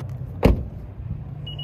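A dull thump from a Honda Civic EX, then a short, steady high-pitched key-left-inside warning beep starts near the end, clear over a low idling hum.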